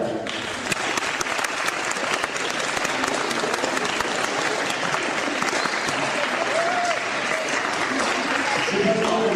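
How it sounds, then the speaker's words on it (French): A school audience applauds students, with sustained dense clapping that continues steadily throughout, mixed with crowd murmur and some voices. "je voudrais maintenant que vous applaudissiez"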